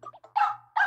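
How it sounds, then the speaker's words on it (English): Two loud, close dog barks in a cartoonish Super Mario Maker 2 level, each a short burst separated by a pause, following a few softer yips, with a faint low hum running underneath. "Is that a dog?"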